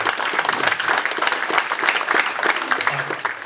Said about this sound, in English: What about a round of applause for that alone?